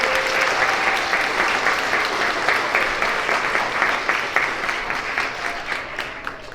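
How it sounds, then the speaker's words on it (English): Students at a 4th–6th grade character education assembly applaud the Mini Knights Marching Band, a dense, steady wash of clapping from a large crowd filling the room, sustained throughout without any talk. "Can everybody give a round of applause for them?"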